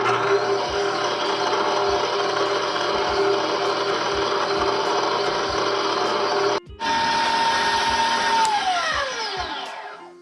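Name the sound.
stand mixer with whisk mixing Cinnabon icing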